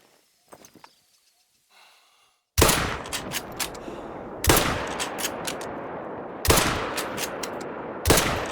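A rifle fired in a video game at a soft drink can on a practice range, four loud, separate shots spaced about two seconds apart, each with a booming decay, after a few faint quiet sounds.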